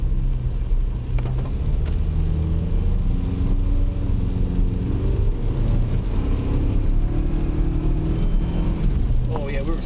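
Toyota Tacoma truck fitted with a Sxth Element CPLT intake pulls hard under acceleration, a loud continuous engine drone with rising tones heard from inside the cab while people talk over it.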